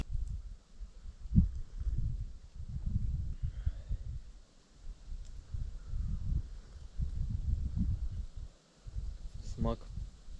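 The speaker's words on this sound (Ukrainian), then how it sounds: "вітер сильний, але вітрозахист допомагає" Steady, gusting wind rumbles against the microphone in low roaring waves, rising and falling throughout, with faint outdoor sounds in the background, at an outdoor campsite in an abandoned village.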